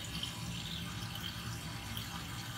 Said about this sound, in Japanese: もうすごい油の海で